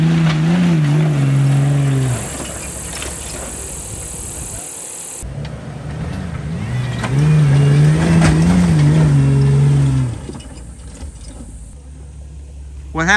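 An off-road Jeep climbs a steep hill with its engine revving loudly and surging in rising and falling pulses, close by, with a brief cut partway through.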